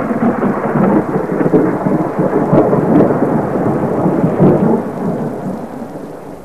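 Thunder rolls and rumbles in deep, continuous waves during a lightning storm, with steady rain hissing underneath. The sound is loud and close throughout, fading slightly toward the end, with no voices.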